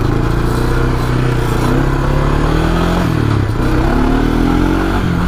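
A Honda Fourtrax ATV engine runs steadily and loudly up close, its harmonic drone rising and falling slightly as the revs shift, with a faint clattery edge and no talking.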